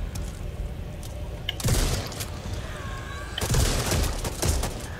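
Explosions and gunfire in the Back 4 Blood video game, two heavy booming blasts with scattered shots and rattling bursts between them, loud and close.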